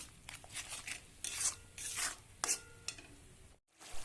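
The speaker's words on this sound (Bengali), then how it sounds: "এবার সব কিছু দিয়ে কিছু সময় ধরে নাড়াচাড়া করে নেবো।" Jackfruit being stirred with Kashmiri chili powder, turmeric and salt in a pan for an echor mutton-style curry, giving repeated scraping, rasping strokes with light sizzle and a brief quiet gap near the end.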